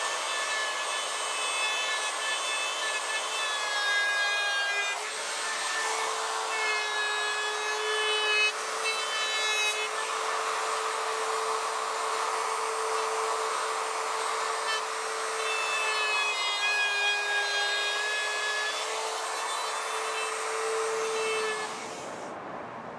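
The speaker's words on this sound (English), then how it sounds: "So I'm going to use that router right there with that bearing on it. We're just going to hit the sides of this guy real quick." A router fitted with a bearing bit trims the sides of a maple guitar fretboard, giving a sustained high whine with a rough cutting rasp that rises and eases as it moves along, close and loud throughout without talk.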